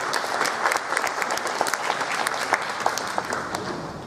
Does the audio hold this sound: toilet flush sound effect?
no